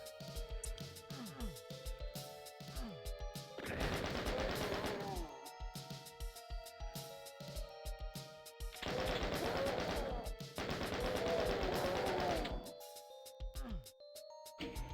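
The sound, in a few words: shotgun firing in the video game DOOM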